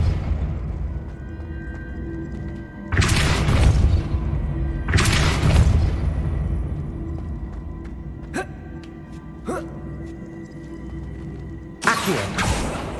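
A Depulso spell cast in Hogwarts Legacy lands as heavy booming blasts, two big bursts a couple of seconds apart, then sharp snapping hits and a final burst over a low game rumble.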